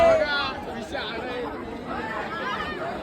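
Packed crowd at Lalbaugcha Raja chattering all around, a continuous close murmur of many voices with a few louder calls cutting through.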